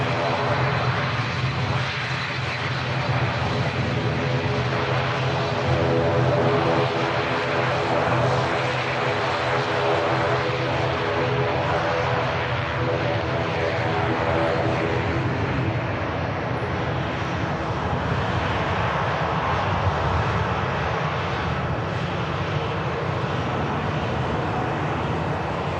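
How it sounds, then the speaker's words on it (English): An airliner on its takeoff roll at Manchester Airport, its engines building into a loud, steady roar that holds for the full length, heard from a fair distance with no talk over it. "And already on the takeoff roll."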